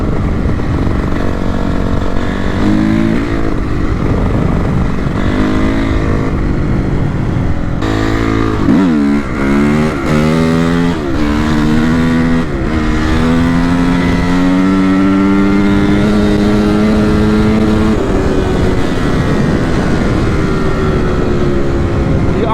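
Repaired Honda CRF 250 motorcycle engine running loud and close, with repeated revs rising and falling in pitch over a steady idle.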